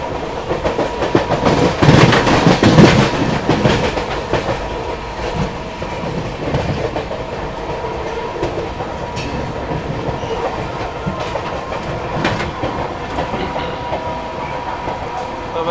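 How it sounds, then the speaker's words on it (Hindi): The Bihar Sampark Kranti Express thunders through Tundla Junction at high speed, loud and near, with rhythmic clickety-clack of wagons and a faint wheel squeal. "भाई ये निकली अपनी बिहार संपर्क क्रांति टूंडला जंक्शन को अपने फुल मतलब हाई स्पीड में स्किप करती जा रही है"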